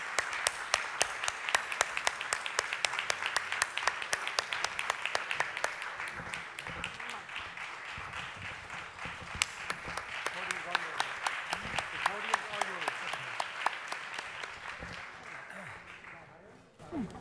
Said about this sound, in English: So let me again applaud Dr. Jeffrey Borer